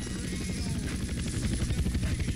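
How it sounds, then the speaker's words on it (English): Helicopter in the video game GTA San Andreas multiplayer, a continuous rhythmic rotor chop with engine drone, loud and close throughout. "That's a helicopter."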